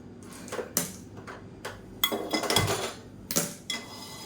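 A nonstick kadai set down on a gas stove while cooking black kavuni rice: several sharp metallic clanks and knocks at uneven intervals, close and fairly loud, with no talking.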